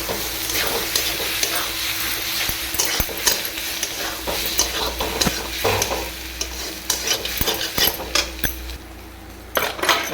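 Spatula stirring egg through chow mein in a hot pan, with steady sizzling and frequent scraping clatters of metal on the pan, close and continuous with no talk.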